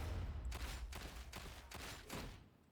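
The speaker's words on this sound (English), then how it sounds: "this version of the las pistol doesn't quite fire as fast as the original, but what it lacks in speed, it makes up for in heavy shots" Heavy shots from a las pistol in the video game Warhammer 40K: Darktide, five evenly spaced energy blasts in a steady rhythm over a low rumbling background, fairly quiet.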